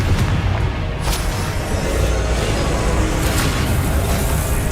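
Confringo spell explosion in the video game Hogwarts Legacy: a dense, roaring blast with a sharp crack near the start and a continuous low rumble that holds loud throughout.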